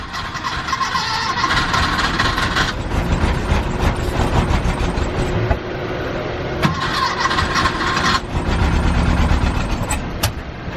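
A cold, 40-year-old air-cooled four-cylinder engine in a Porsche 914 cranks over and over after sitting for six months. The steady, loud starter churn keeps trying but never catches, and no one speaks.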